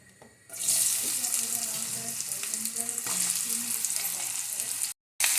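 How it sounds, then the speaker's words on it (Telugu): Spiny gourd pieces drop into hot oil in a pan, and a loud, steady sizzle bursts in after a brief quiet start, holding close and bright until a sudden cut near the end. "ఇప్పుడు ఆయిల్ వేడెక్కింది ఇప్పుడు ఈ ముక్కలన్నీ ఇందులో వేసుకోవాలి"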